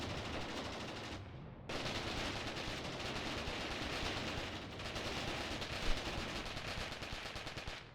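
Dense, continuous rattle of gunfire and artillery thunders across a Mius Front World War II battlefield, a loud wall of overlapping shots with one brief lull and a heavier blast near the middle.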